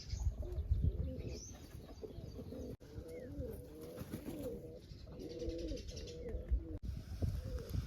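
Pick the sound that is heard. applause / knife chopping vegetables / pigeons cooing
pigeons cooing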